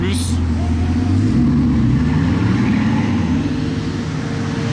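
Bugatti Chiron supercars, including one with German plates and gold wheels, pass by in a convoy as a loud engine roar swells and fades, with a voice speaking over the traffic noise.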